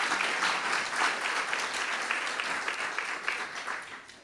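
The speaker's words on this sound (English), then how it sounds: "Can you please give her a round of applause?" Audience applause at an evening community gathering, dense, steady clapping that carries evenly for the whole stretch, fairly close and full.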